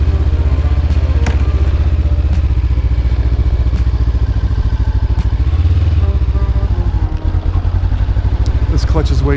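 A Honda CB500F motorcycle engine runs close and loud with a steady, fast, throbbing pulse throughout. The rumble is low and continuous, with slight changes in revs.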